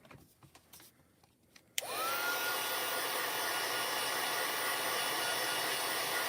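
A heat tool switches on abruptly to heat-set watercolor shimmer ink on paper, blowing a loud, steady, hissing roar that continues to the end after a few quiet handling taps.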